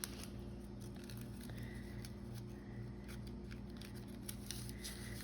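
Fiskars scissors cut paper for making faux glassine bags, a series of faint, close snips and crisp paper rustles over a steady low background hum, with no talking.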